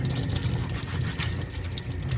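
Warm water runs steadily through a lawnmower part during maintenance, a continuous close gushing flow with no pauses and no talking.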